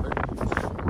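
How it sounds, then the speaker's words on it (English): Wind on a blustery day outdoors at a beaver dam buffets the microphone, making a brief burst of loud, uneven rumbling gusts. "again windy day today"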